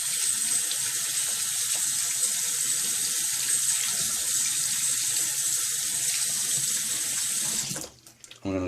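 Tap water runs steadily and loudly into a sink while soap is rinsed out, a continuous close splashing gush that cuts off near the end.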